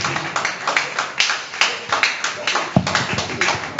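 Sparse rhythmic handclapping from a small group at a book launch, steady claps spaced about a quarter second apart, close and moderately loud, with a brief murmur of voices.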